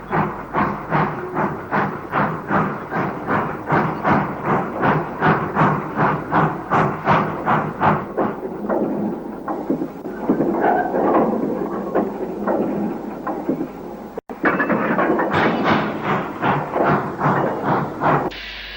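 Steam locomotive 44554 on local shunting duty around Heaton Mersey, Stockport, in late-1950s film, chuffing loudly and close in a steady, rhythmic beat that eases into a continuous hiss of steam before the regular exhaust beats resume.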